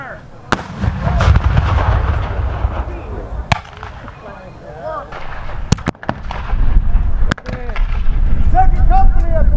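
Artillery cannon fire at a Civil War reenactment, Nappanee Blue and Gray Days: several sharp, booming reports spaced a few seconds apart ring out over outdoor crowd noise and distant voices.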